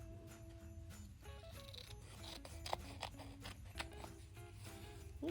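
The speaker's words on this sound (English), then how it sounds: "Now I am going to go through and trim this off" Scissors trim the paper edges of a Christmas craft page, giving close, quiet snips and rustling cuts over a low room hum, with no talking.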